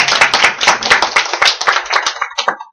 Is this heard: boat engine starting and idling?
no